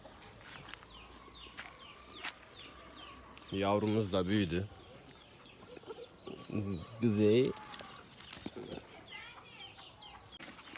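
Chickens cluck in a farmyard where goats share hay with them, with two loud, raspy calling bursts standing out over a quiet background while someone talks.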